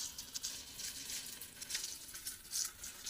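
A fried hilsa fish head with turmeric stirred in a hot pan, a faint, steady sizzle with soft crackling pops close by, no talking.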